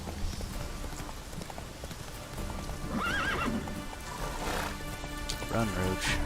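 Roach, Geralt's horse in The Witcher 3, clip-clops along at a gallop under steady rain, with a whinny partway through and a voice talking over the hoofbeats.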